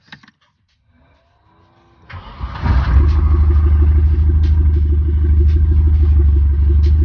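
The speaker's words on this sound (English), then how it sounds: "so we've got the car started" A Mercedes 190E engine with its exhaust removed cranks and catches at about two seconds, then settles into a loud, steady, rumbling idle with a rough, throaty exhaust note.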